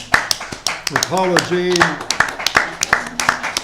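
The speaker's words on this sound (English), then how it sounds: "Let's have a round of applause for" Scattered, sharp claps from a small audience in a restored house ring out one by one in an uneven rhythm, close and distinct, while a person speaks over them briefly.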